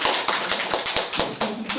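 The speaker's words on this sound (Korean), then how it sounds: "다른 분들은 박수 보내주십시오." Church congregation applauding, a quick, close run of individual sharp claps at an uneven rhythm, loud and fairly sparse rather than a full ovation.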